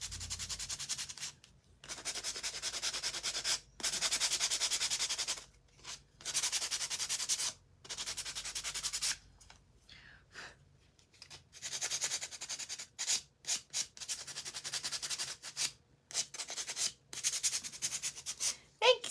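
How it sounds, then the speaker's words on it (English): Hand sanding on a vintage craft frame decorated with a hare and a spindle, close-up bursts of dry rubbing and scratching strokes broken by short pauses, the strokes growing shorter and choppier toward the end, with no talking. "I'm just kind of sanding it just a little bit"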